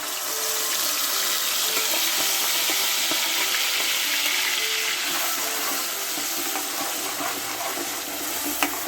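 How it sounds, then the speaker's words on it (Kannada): Onion, garlic and ginger paste fries in a pan with a steady, dense sizzle, close and continuous throughout, with faint stirring scrapes and no talk. "ಇವಾಗ ನಾನು ಇಲ್ಲಿ ರುಬ್ಬಿಟ್ಕೊಂಡಿರೋಂಥ ಈರುಳ್ಳಿ, ಬೆಳ್ಳುಳ್ಳಿ, ಶುಂಠಿ ಪೇಸ್ಟ್ನ ಇಲ್ಲಿ ಹಾಕ್ಕೊಳ್ತಾ ಇದ್ದೀನಿ."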